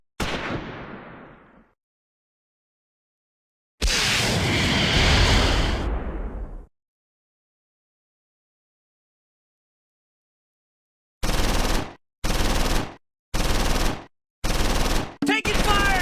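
Mortar and gunfire crash out in the World War II strategy game Close Combat 4, set at Monschau in the Battle of the Bulge: one decaying boom, a longer roaring blast, then a rapid run of five sharp bursts with silences between them.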